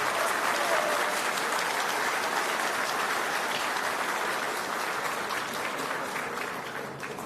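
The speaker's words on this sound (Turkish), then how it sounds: "Onları alkışlamanızı rica ediyorum." Sustained applause from a large audience at a Fenerbahçe holiday greeting ceremony, honouring medal-winning athletes; dense, steady clapping fills the whole stretch and eases off slightly toward the end.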